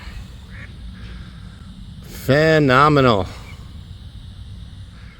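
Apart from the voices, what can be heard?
ducks quacking in park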